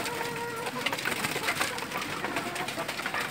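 Racing pigeons in a loft give soft, rolling coos that repeat and overlap at close range, over a dull mechanical background murmur; no talking.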